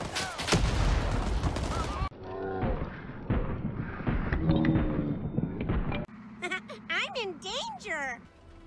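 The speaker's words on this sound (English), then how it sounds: "That's a grenade." A grenade bursts amid crackling gunfire in a video game, with a dense, loud blast up front followed by quieter shots, while voices talk over the action.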